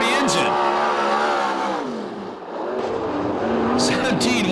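USAC National/CRA sprint cars race on the oval at Perris, California, with a loud, close engine roar that dips briefly and swells again as cars pass, while an announcer talks over it.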